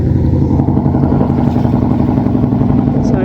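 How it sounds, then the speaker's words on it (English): A loud, steady boat motor drone with a rattling, clattering mid-range rumble, a worn motor running continuously up close without pause. "that's a really noisy boat. It sounds like it might need a new motor."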